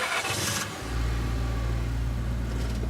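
A small two-seater truck engine in the Scarlet Hollow video game rumbles steadily after a brief start, a loud continuous low hum filling the whole stretch with no talk.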